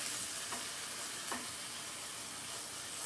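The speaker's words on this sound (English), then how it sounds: "Okay, so take a look at the meat over here. Give it another stir." Ground meat sizzles in a pan under a steady frying hiss, with two quick scraping stir strokes breaking it up into crumbles; no one speaks.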